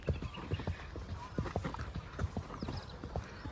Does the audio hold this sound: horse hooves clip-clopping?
yes